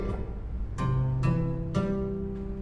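Several chords struck one after another on a two-manual Wittmayer concert harpsichord with its 16-foot stop engaged, bright and plucked with a deep, heavy low register beneath, ringing out alone.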